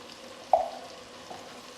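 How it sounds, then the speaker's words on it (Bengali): Potatoes frying in a pan as spices go in, a soft steady sizzle with one brief louder hiss or stir near the start, fairly quiet and with no talking. "আলুগুলো একটু ভেজে নেব"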